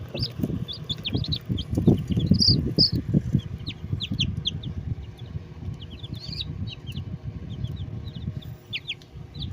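Chickens, including Orpington chicks, clucking nearby, low rhythmic clucks in the first half with higher chirps and peeps scattered throughout, no talking.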